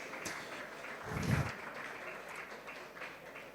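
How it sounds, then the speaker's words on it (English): Faint, distant applause from attendees at an international conference and AGM honoring royal fathers, a soft continuous patter of many hands with a brief swell near the middle. "Please a round of applause for our royal fathers"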